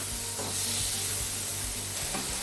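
Tomatoes and sweet peppers soften in a frying pan as the base for an omelette, giving a steady, close sizzle with soft, repeated stirring thumps underneath and no voices.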